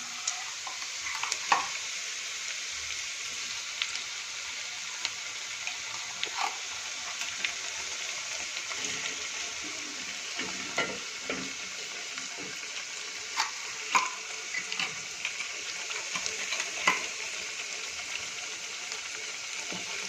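Prepared gravy for cabbage kofta goes into a hot pan, giving a steady, fairly soft sizzle throughout with light clicks of stirring scattered on top.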